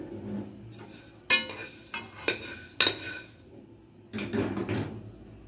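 Pumpkin seeds dropping into a hot pan for toasting, sharp clattering impacts in a few distinct bursts, followed by a longer rattling scatter, close and fairly loud with no talk.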